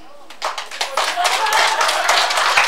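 An audience at a numerology graduation ceremony bursting into applause, many hands clapping loudly and steadily after a brief quiet start, building to a dense sustained roar.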